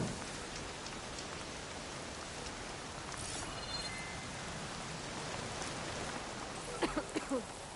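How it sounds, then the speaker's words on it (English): Steady, dense rainfall pours down in Horizon Forbidden West, a constant hiss of drops on surfaces that fills the scene; a few faint clicks appear near the end. "Can't hear much over the rain."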